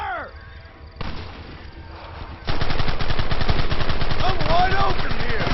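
Gunfire in the Western video game Red Dead Redemption: a dense, loud burst of rapid overlapping shots and rattling volleys that swells after a quieter opening and continues without pause.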